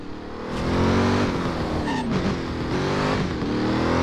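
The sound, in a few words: Audi car driving past in video game Driver San Francisco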